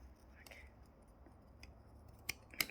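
Scissors snipping crab cactus stems indoors, a few faint, sharp clicks scattered through quiet background, with the last two cuts louder near the end.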